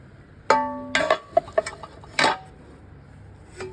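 Square pots from a cookware set, including a grill pan, clank and knock together as they are handled, several sharp metallic hits spread unevenly between quieter moments, close by and without speech.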